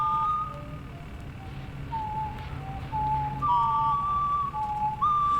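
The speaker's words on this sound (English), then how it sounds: "if they're whistling a song, this is the music notes that kid dreamed of" Someone whistles a song: thin, steady notes that slide and hold, with short gaps between phrases over a low, constant background hum.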